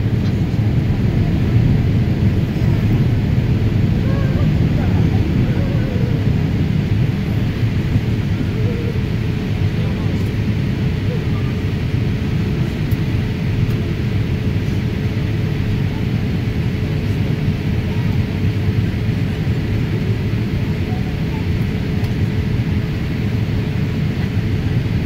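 A Biman Bangladesh Airlines Boeing 787 landing at Heathrow, heard from inside as a constant loud cabin roar and deep rumble that lasts throughout.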